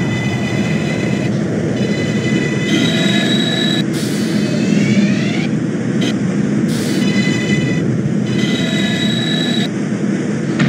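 A simulated New York subway 6 train on the Pelham and Lexington line in the OpenBVE game rumbles along loudly and steadily, with high whining motor tones and squealing wheels rising and falling throughout.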